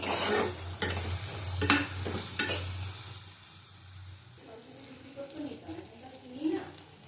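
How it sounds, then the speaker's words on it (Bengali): Taro with salt stir-fried in a pan, with a spatula scraping and clacking in several sharp strokes over a steady sizzle, then fading into quieter frying with faint voices in the background. "নুন দেব, ভালো করে কষিয়ে নেবো"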